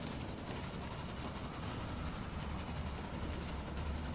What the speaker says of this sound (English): Sometimes I like to ride the train.